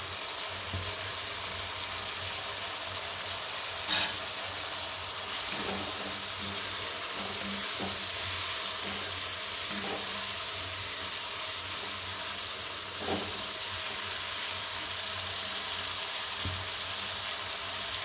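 Cinnamon and crushed cardamom sizzle in hot oil in a pan, a faint, steady hiss that carries on throughout with a few soft pops and no talk.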